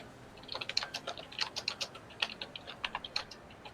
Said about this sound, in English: We hear a DM typing about after a question